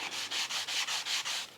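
Sanding block rubbed back and forth on a Ford Essex V6 engine part from a TVR, seven even scraping strokes in a steady rhythm, close and clear with no talk.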